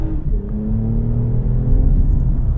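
A 2020 Toyota Avalon TRD sedan's engine drones low and steady from inside the cabin while driving, with a smooth rising tone and no talk.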